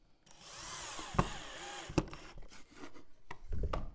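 A drill whirs in short bursts while driving a screw into wood, with sharp clicks and knocks between spins, close and fairly quiet.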